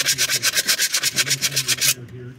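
A surface is hand-sanded side to side in steady, rhythmic back-and-forth strokes, about fourteen quick rasping passes, close and loud, stopping abruptly near the end.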